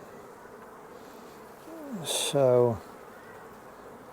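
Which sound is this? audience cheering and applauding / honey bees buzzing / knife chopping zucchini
honey bees buzzing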